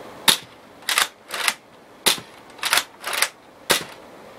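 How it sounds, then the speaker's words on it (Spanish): Seven sharp snapping shots from a Nerf Raider toy foam blaster, fired one at a time with short pauses between, close and fairly loud. "Ahora les haré demostración de un solo disparo."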